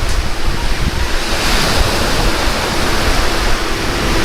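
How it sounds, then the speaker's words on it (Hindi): Ocean waves wash onto a beach at Coastarina Park on Batam Island, Indonesia, a loud continuous roar of surf mixed with wind buffeting the microphone. "पीछे देखिए इतना सुंदर बीच है और इतना अच्छा पानी है। देखिए ये जो है वेव,"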